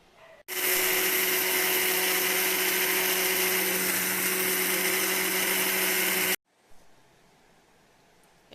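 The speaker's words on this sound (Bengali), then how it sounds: "এই চালটুকু আছে, একটুখানি গুঁড়িয়ে নিই" Electric grinder machine coarsely grinding rice, a loud steady motor whir with a constant hum that starts abruptly, runs about six seconds and cuts off, followed by quiet rustling.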